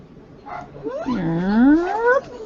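Dog giving a drawn-out whimpering whine that rises and wavers over about two seconds, with a short yip at the start, fairly close and heard alone.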